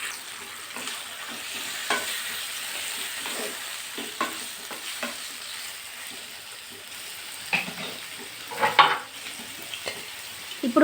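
Half a kilo of salted chicken pieces cooking in a pan for a Telangana-style chicken curry, giving a steady low sizzle with scattered stirring scrapes and clinks, fairly close and without talk.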